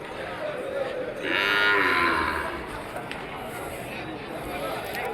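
Young cows at a weekly cattle market give one clear, drawn-out moo close by, rising above a busy outdoor crowd murmur, with voices talking throughout.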